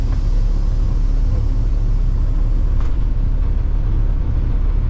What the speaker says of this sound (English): Truck moves easier if I release the brake.